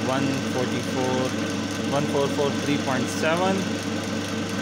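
A single-phase capacitor-run induction motor runs with a steady, even mechanical hum and drone throughout, partly under a voice reading out a measurement.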